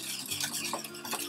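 Cake batter being stirred with pineapple juice for a Romanian pineapple upside-down cake, a steady close scraping and swishing of a utensil against the bowl with a few soft clinks.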